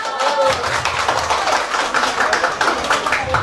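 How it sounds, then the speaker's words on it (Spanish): A crowd claps at a children's birthday party, quick scattered hand claps mixed with lively voices talking over them, close and loud. "Aplauso para la doctora."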